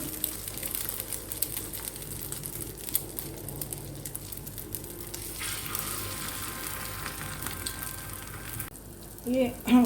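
Egg-dipped chicken resha kebabs frying in oil over moderate heat give a steady, close crackling sizzle throughout, with a few louder bumps near the end.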